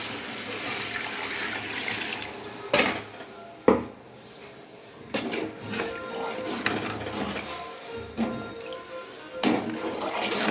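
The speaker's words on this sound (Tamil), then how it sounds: "இப்போ நம்ம தண்ணியை சேர்த்துக்கலாம்." Water is poured into a cooking pot of rice and vegetables, splashing in short bursts with metallic clanks of the pot between pours, close and fairly quiet.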